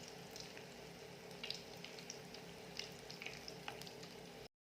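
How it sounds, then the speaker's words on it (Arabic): Pieces of food frying in oil in a frying pan for Algerian tajine el azeb, a traditional Constantine dish, with a soft, steady sizzle and crackle that runs evenly throughout and no voices. "هني البنات حطيتهم يتقلاو كيما هكا في المقله"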